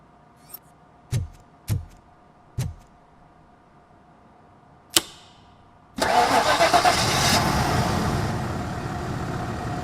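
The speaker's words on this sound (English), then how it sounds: "That would explain the car not starting." A car engine in the Robocop: Rogue City video game, previously stalled by a disconnected coil, gives several short cranking attempts and a sharp clunk, then catches and settles into a steady, loud idle.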